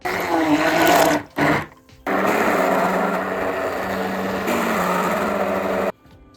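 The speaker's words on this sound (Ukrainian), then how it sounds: "Картоплю зварену і цибулю ми перебиваємо блендером погружним" An immersion blender purees boiled potatoes and onion for a lenten sprat soup. It gives a loud, steady motor whir that stops briefly near the start, then runs continuously before cutting off.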